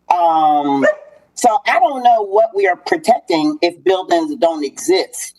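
A dog barks repeatedly and loudly in the opening second, with more yips and barks under a person speaking at a special called and agenda-setting government session.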